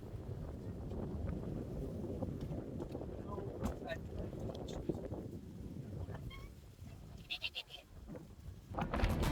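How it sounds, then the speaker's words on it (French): Strong wind on a high footbridge at Mazamet buffets the microphone in loud, rough gusts, easing briefly before surging again; faint bleating animals call in the distance. "Et il y a un vent phénoménal."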